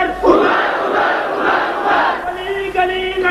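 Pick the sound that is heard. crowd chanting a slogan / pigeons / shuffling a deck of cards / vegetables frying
crowd chanting a slogan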